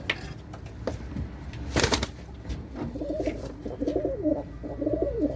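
A female Gökberlen Arab cross pigeon gives soft repeated coos up close, with a brief burst of wing flapping and faint rustling around it.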